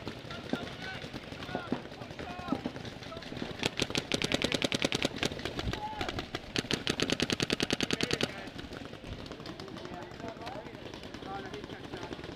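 Planet Eclipse Etha 2 paintball markers firing during a picnic table paintball battle: bursts of rapid, evenly spaced pops, loudest in a long volley mid-way, with shouting players and scattered shots around it.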